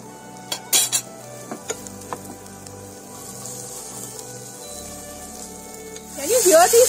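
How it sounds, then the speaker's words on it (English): Broccoli, peas and other stir-fry vegetables sizzle in a pan, with a few sharp clinks of a utensil against the pan early on and a steady soft hiss throughout, close and moderately loud. "Can you hear these sizzling sounds?"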